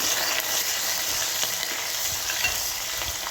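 Onions fry in a pan with a steady close hiss and sizzle, punctuated by faint scraping from occasional stirring.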